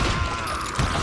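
Brief, dense burst of gunfire in the Wild West shooter Call of Juarez: Gunslinger, a sustained crackling volley with a heavier thump near the end.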